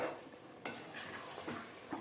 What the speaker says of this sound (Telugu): నెమ్మది నెమ్మదిగా కలుపుతూ ఉంటే పీల్చేసుకుంటుంది